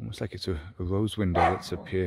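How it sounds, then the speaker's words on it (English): A dog barks in short bursts indoors while someone talks steadily over it, the barks mixed under and between his words. "There's something invisible and not actually there that he's barking at."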